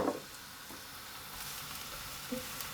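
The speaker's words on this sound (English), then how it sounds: "So with my oil heated, I'm going to put my aubergine in" Aubergine pieces frying in heated oil, a steady broadband sizzle holding evenly throughout, with a brief stirring clatter at the start and small utensil ticks later.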